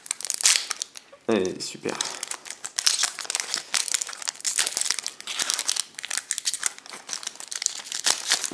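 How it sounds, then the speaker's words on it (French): A Pokémon card booster pack wrapper, an Yveltal pack, is torn open by hand with continuous close crinkling and ripping of the foil, and a voice speaks briefly over it. "deuxième booster, on va ouvrir le Yveltal."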